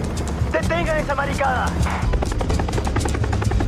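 A helicopter in a TV crime-drama scene about Pablo Escobar gives off a steady, loud rotor chop and engine roar throughout, while someone shouts over it.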